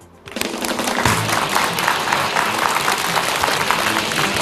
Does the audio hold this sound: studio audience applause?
yes